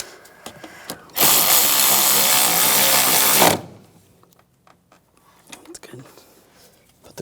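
A power tool runs in one steady, loud burst of a little over two seconds, snugging down a nut on a harness bolt during a valve cover replacement on a 2008-2013 BMW 328i xDrive, with quiet workshop clatter before and after.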